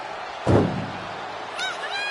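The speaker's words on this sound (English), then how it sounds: "Head first into the ambulance" A wrestler slams head first into an ambulance in WWE 2K24, making a single heavy thud over a steady roar of arena crowd noise.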